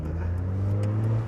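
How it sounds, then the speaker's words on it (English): A Ford Fiesta ST engine hums steadily at low pitch with a slight rise in revs, close by and continuous, with faint clicks over the top. "that Fiesta ST is giving it a few revs."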